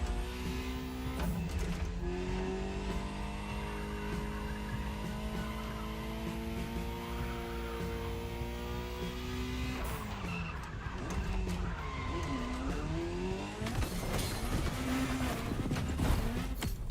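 A Ferrari racing in The Crew Motorfest, its engine a steady droning whine that rises and shifts pitch, with tire skids and squeals, loud and continuous throughout, with no talking.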